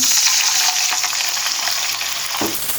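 Loud, steady hissing and sizzling as water is poured onto onions frying in a hot pan, with a fresh burst of crackling near the end, no voices.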